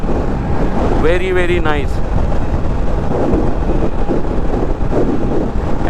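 Steady, heavy wind roar buffets the rider of a Royal Enfield Scram 411 motorcycle at high speed, a constant broadband rush filling the whole stretch, with a voice briefly speaking over it near the start.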